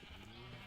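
A sheep bleats once in Minecraft, a short wavering call heard at moderate loudness over soft game ambience.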